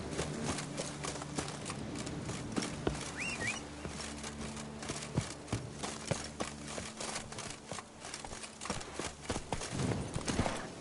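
Horse hooves pattering steadily in The Witcher 3, a continuous quick rhythm of close hoofbeats at moderate volume over ambient game sound for the whole stretch.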